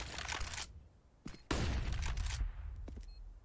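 Gunfire in the game Counter-Strike during a competitive match, with several sharp bursts of shots in quick succession, a short pause, then a sustained loud spray of fire tapering into scattered single shots.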